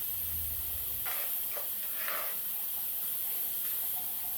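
Water boiling in a pot with whole spices for Hyderabadi chicken biryani gives a soft, steady hiss with a few brief bubbling bursts, moderately close and without talk.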